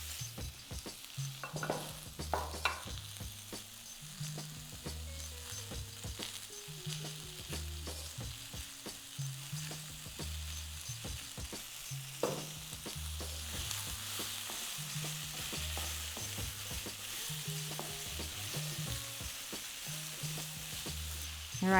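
Pumpkin talkari frying in oil in a Trinidad and Tobago kitchen, a soft continuous sizzle broken by repeated spoon scrapes and knocks against the pot, with a quiet rhythmic tune playing underneath.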